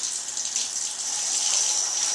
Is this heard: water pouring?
yes